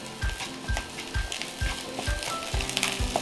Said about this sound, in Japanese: このぐらいまでパラパラになってきたら白ネギのみじん切りを加えて、 最後ちょっと温度を上げましょう